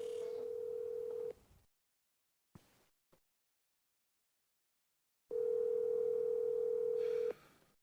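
A phone call on speakerphone rings out: a long ringback tone, a stretch of near silence with a couple of faint clicks, then a second long ring tone.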